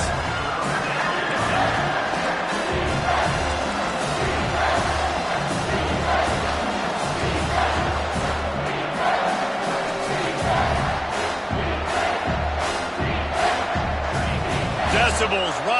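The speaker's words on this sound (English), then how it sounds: "Decibels rising as the crowd gets behind this defense on 3rd down" A packed stadium crowd roaring at a college football game as the defense lines up on third down, a dense, loud, continuous swell of cheering and shouting.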